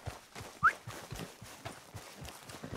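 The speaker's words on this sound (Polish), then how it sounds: "Koń. Dobra, konia nie chcemy." A horse's hooves clip-clop at a steady walking pace in Red Dead Redemption 2, evenly spaced and moderately close, with a short sharp chirp early on.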